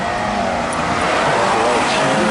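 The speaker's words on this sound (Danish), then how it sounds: "Der kom bussen." A bus arriving at a Copenhagen street in the evening, a loud steady engine and road rumble close by, filling the whole moment under crowd noise.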